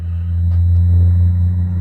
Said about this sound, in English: I'm going to let this truck pass.